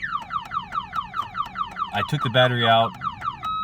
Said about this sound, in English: now I put it back and I get this stupid car alarm. And it won't stop.